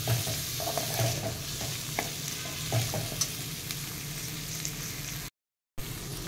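Capsicum, sweet corn and beans for paneer pulao sizzle and fry in a pan while being stirred, a steady close crackle with a few scraping clinks and a brief silent gap.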